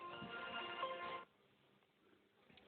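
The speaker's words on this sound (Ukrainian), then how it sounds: "Тут дзвонить мій один друг." A phone rings with an incoming call: a bright, tonal ringtone plays for just over a second and then cuts off, leaving quiet room noise, with no speech.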